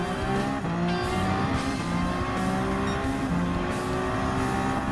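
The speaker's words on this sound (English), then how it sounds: "Seventh gear is kicking up and up to 200 miles per hour." Race car in Gran Turismo 7 at full speed in seventh gear near 200 mph on a Le Mans-style circuit, a loud continuous engine drone with rising gear-change harmonics, alone without talk.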